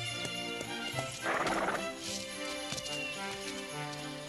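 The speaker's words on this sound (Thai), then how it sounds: "คุณขี่ม้าได้เก่งมากนะ" A horse being ridden neighs once in the middle, with hooves clopping faintly beneath a steady bed of music.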